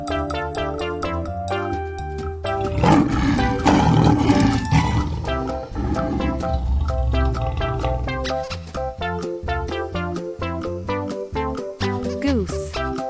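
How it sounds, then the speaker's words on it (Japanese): A lion roaring, heard as a deep, rough roar rising over steady background music in the middle of the clip, with the music continuing alone afterward. "Lion."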